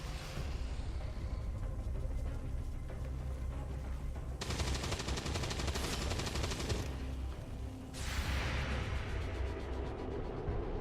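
Sustained gunfire in XCOM 2 War of the Chosen on a swamp tower map, a dense, continuous rattle of automatic shots with harsh bright bursts midway and toward the end, loud and steady throughout.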